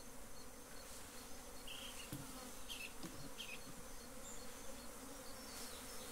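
Honey bees buzz steadily around an opened beehive honey super with a piece of honeycomb laid on top, a continuous close insect drone with a few louder passes near the listener.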